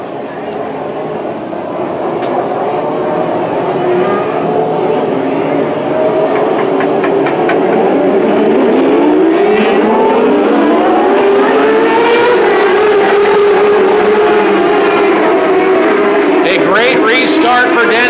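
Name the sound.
600 micro sprint race cars racing at Petaluma Speedway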